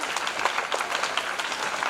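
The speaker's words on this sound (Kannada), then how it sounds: "ನಮ್ಮ ವಿದ್ಯಾರ್ಥಿಗಳಿಂದ ಜೋರಾದ ಚಪ್ಪಾಳೆಯ ಮೂಲಕ ಗೌರವವನ್ನು ಸಮರ್ಪಣೆ" School students clap loudly and steadily at a school event, a dense, even wash of applause from a crowd of children with no pause.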